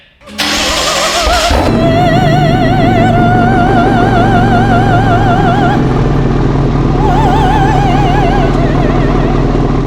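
A BMW M5 engine cranks and fires, then settles into a loud, rough idle with wavering revs throughout, heard up close from behind the car with no talking.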